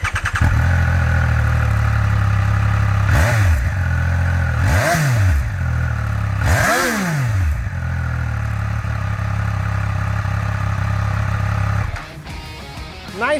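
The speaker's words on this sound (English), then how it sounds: "We like how the 2022 Speed Tripper 1200RR sounded." A 2022 Triumph Speed Triple 1200 RR's engine idles close and loud, then revs in three rising and falling blips before settling back to a steady idle and cutting off near the end.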